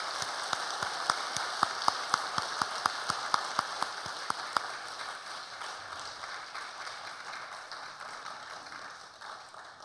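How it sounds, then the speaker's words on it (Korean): A church congregation at a Sunday service breaks into brisk applause, a dense patter of many hands with sharp claps up front, thinning and fading over several seconds. "감사의 박수로 환송하도록 하겠습니다"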